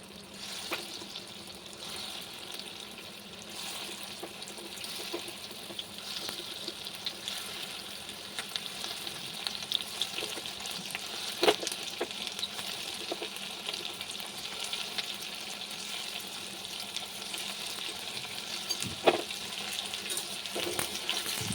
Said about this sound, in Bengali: এবারে একটা একটা করে ভেজে নিতে হবে